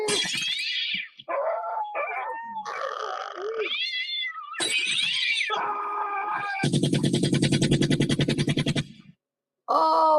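Cats yowling and screeching in a fight, loud harmonic wails rising and falling in bursts, with a sustained buzzing growl near the end; some barking-like cries mixed in.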